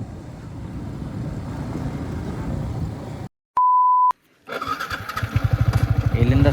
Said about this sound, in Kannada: ಆಫ್ ರೋಡ್ ಬೈಕ್ ಇಟ್ಕೊಂಡ ಸ್ಲೋ ಹೊಂಟಾನವ